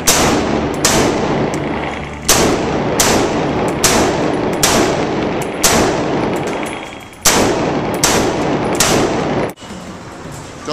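AR-15 rifle fired at targets on a range, roughly nine loud, sharp shots spaced about a second apart with ringing decay, close and clear with no voices.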